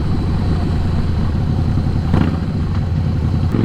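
A 2017 Harley-Davidson Slim S cruiser motorcycle engine drones steadily at cruising speed, a low throbbing rumble with wind noise, close and loud throughout.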